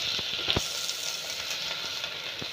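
Turmeric and spices sizzle in hot oil in a pan, a steady close crackling hiss with a few sharper pops, and no voices.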